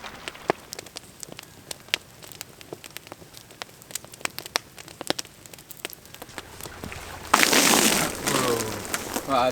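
Rain falls around a rooftop tent beside a lake in British Columbia, scattered drops tapping sharply on a surface, then a louder, denser burst of rain near the end.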